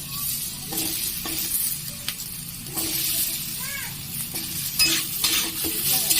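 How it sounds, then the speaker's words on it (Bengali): Loud, continuous sizzling of fruit and dates frying in a pan for fruit pickle, broken by repeated stirring scrapes and a light metallic clink, with a voice talking over it. "ভাজা হতে হতে দেখুন বন্ধুরা হালকা লাল লাল ভাজা হয়ে গেছে"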